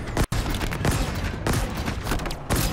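Weapon fire in Halo Infinite, played on Xbox Series X: a dense, loud barrage of rapid shots and impacts pounds almost without pause, broken once by a brief gap near the start.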